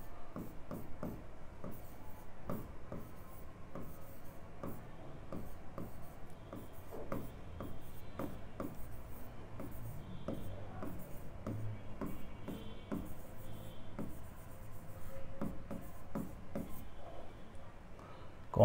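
Marker or chalk writing on a classroom board, a continuous run of scratchy strokes and taps with brief pauses between words, quiet and close, with no talk over it.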